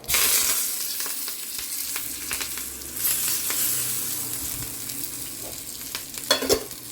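Curry leaves dropped into hot tempering oil with the stove just switched off, a bright crackling sizzle that bursts at the start and then settles into a steady fry, no talking.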